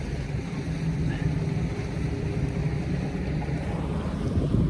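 Wind and waves aboard a daysailer under sail, a continuous loud rush of wind buffeting the microphone over low churning water wash, steady with no breaks.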